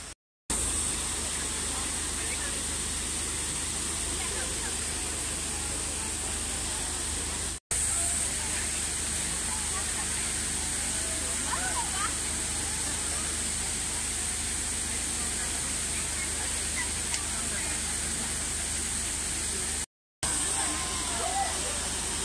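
Water from the Trevi Fountain in Rome splashes and rushes in a steady, broadband wash, continuous and fairly close, with a few brief dropouts.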